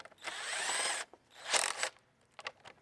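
Power drill driving bolts into a Ford Explorer radiator support, two close whirring bursts of about a second each, followed by short faint mechanical clicks.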